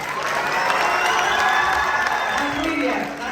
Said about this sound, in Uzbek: Konsert uchun tarix va yuridik fakultetining Legion jamoasiga bitta biroz qarsaklaringiz.